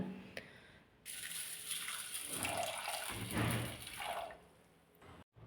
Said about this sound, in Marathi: दोन वेळा चांगली डाळ धुवून घेतली